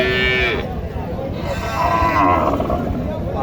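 A Sahiwal cow lowing loudly nearby at a cattle market, a long deep moo, with background chatter and ambient noise.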